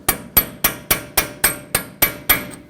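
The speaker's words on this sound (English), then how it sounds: "with a hammer, tap it to make sure it actually will break free" A hammer taps a punch set in the center of a front axle part on a 2015-2020 Ford F-150 during a strut replacement, striking nine sharp, evenly spaced metallic blows up close.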